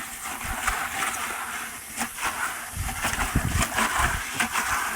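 Water rushes steadily from a tap in a broad hiss while cement is mixed for a garden gnome mold, with occasional low knocks and bumps nearby.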